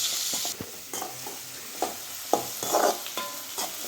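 Onion frying in oil in a pan, with soft sizzling and a few sharp scraping stir strokes scattered through, close and moderately loud, no talking.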